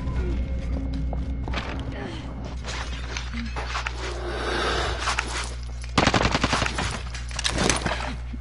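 Rapid automatic gunfire from a PS4 online shooter crackles almost continuously, with sharper close bursts near the end, while a player talks over the game audio.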